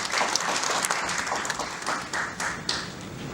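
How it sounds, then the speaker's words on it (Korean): Dense audience applause greets a speaker at a policy forum, a full, continuous wash of many hands clapping with no voices over it. "박수로 환영해 주시기 바랍니다."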